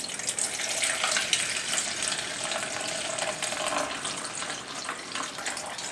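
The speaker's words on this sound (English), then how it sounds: "pour about 3/4 of the cup into your yeast mixture" Warm milk is poured from a cup into a yeast mixture for cinnamon rolls, a steady, continuous splashing pour that runs unbroken for several seconds at moderate volume.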